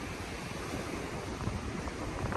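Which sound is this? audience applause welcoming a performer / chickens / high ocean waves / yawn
high ocean waves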